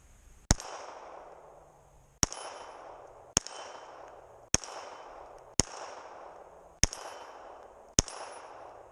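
A Bersa Thunder 380 pistol fires seven sharp shots at uneven intervals, each a loud crack followed by a short ringing echo that decays before the next.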